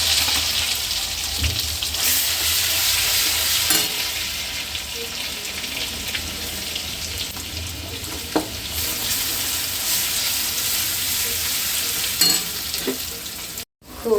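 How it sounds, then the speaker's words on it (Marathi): Mutton fries in homemade masala with ginger-garlic paste, a continuous bright sizzle with stirring scrapes and brief clinks, close and steady, with one short dropout near the end. "तर आता आम्ही मटण फोडणीला देतो इकडे."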